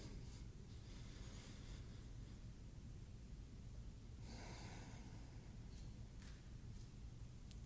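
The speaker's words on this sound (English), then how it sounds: "Let's breathe in and breathe out." Worshippers in a synagogue congregation breathe in and out together during a Shabbat sermon, a soft, steady breathy rush with one fuller, audible swell of breath midway, faint and close with no talking.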